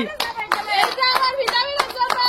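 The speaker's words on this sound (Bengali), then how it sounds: "জোরে হাততালি সুমির জন্য, সুমির জন্য জোরে হাততালি।" People clap their hands in quick, sharp, irregular bursts, close and loud, with voices calling out in the background.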